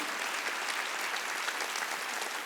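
A church congregation applauds during a Wednesday worship service, a dense, steady wash of many hands clapping together at close range throughout, with no voices rising above it.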